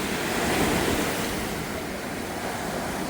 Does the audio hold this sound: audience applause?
no